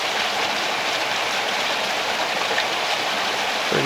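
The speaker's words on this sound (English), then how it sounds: "Water splashing down in the background." A small waterfall splashes steadily into a pool among large moss-covered boulders, a loud, continuous broadband rush of falling water with no pauses.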